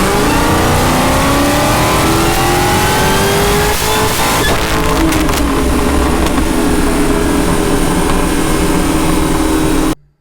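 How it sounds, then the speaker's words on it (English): Rebuilt Dodge Challenger SRT Hellcat on a dyno, its engine roaring loudly at sustained high revs with a rising, climbing pitch through a full pull, then cutting off abruptly. "it was finally time to hit the dyno and see what this rebuilt Challenger was actually capable of"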